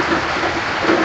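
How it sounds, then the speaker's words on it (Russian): Heavy rain pours down in a loud, steady, unbroken hiss of dense drops, with no voices. "Что ты раньше любил в детстве купаться под такой дождь?"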